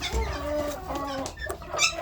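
Domestic desi hens cluck close by in a backyard coop, several short tonal clucks and calls overlapping in a loose, irregular rhythm, with no talking.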